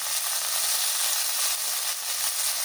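Green peas hit hot oil in a frying pan while veg fried rice is being made, giving a steady, close, bright hissing sizzle that holds evenly throughout with no talk.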